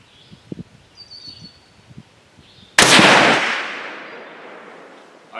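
A single loud rifle shot from a Savage 110 Varmint in .22-250 firing a 39-grain load cracks sharply and then rolls off in a long, fading outdoor echo, with faint birdsong before it.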